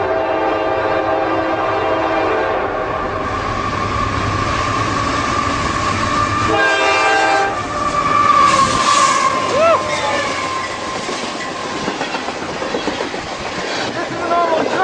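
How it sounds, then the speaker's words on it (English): A busy train station where a freight train rolls past, giving a steady loud rumble with a horn-like tonal blast partway through and rail noise continuing to the end. "They have trains going by here 24/7. This is the train station, it's pretty busy."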